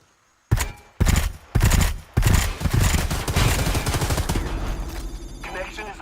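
Bursts of gunfire in the Predator: Hunting Grounds video game as a fireteam shoots out transmitters, opening with a few loud separated volleys and then running into a sustained, dense stretch of rapid fire that slowly eases off.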